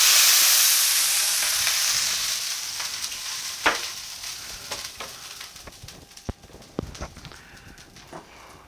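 Steak bites hitting a hot pan burst into a loud hissing sizzle that gradually fades, followed by scattered sharp pops, spatters and clacks of utensils against the pan.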